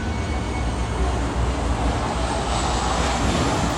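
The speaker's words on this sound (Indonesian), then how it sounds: "Sebentar pesawat lewat ya." Loud continuous roar of an airplane passing overhead, broadband and steady across the whole stretch with no speech over it.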